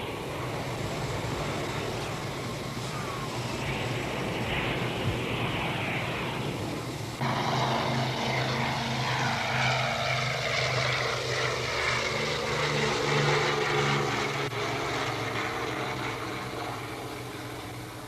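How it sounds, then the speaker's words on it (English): Military jets returning to land at Da Nang air base during the Vietnam War, a continuous loud engine roar that swells and shifts in pitch as aircraft pass nearby, with no talk. "They count the planes as they come in."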